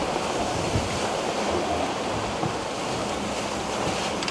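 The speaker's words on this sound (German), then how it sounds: "Wir rauschen durchs Wasser und der ganze Schiffskörper fängt an zu summen." Constant rushing water and wind noise as a racing sailboat's hull cuts through waves on an Atlantic crossing, a dense steady wash without talk.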